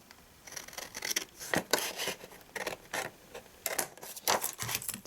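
Scissors cutting vellum to shape a gift bag, a series of close, crisp snips in irregular bursts with brief pauses between cuts.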